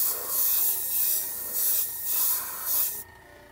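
Mr. Color Ultra Metallic silver or gold paint is sprayed in close, loud hissing bursts that swell and ease in a steady pulsing rhythm, then cut off sharply, leaving a faint background hum.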